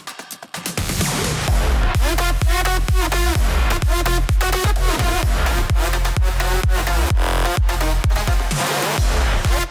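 Loud, punchy electronic dance music with a steady four-on-the-floor kick, layered synths and a driving beat that fills the whole stretch.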